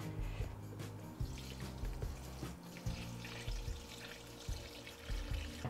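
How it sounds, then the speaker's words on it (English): Cold water splashes and runs steadily into a bowl of lilac flower heads, with clattering and a low hum of kitchen background throughout. "pour cold water until the"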